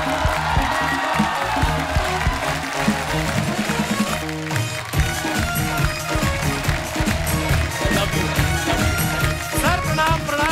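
Loud, dense applause and cheering from a studio audience greeting comedy veteran Tiku Talsania on stage, a steady wall of clapping with crowd noise and music running through the whole stretch.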